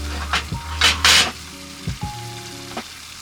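Soy milk soup simmers gently in a pot on lowered heat as Souma Shantan seasoning is stirred in, soft bubbling sizzle broken by a few brief swishes and light clinks of the utensil, with no talking.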